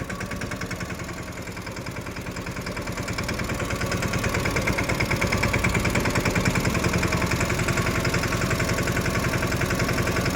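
A tractor engine runs steadily on a farm where two tractors are working together to lift groundnut, a rapid rhythmic chugging drone that grows slightly louder partway through and continues without speech.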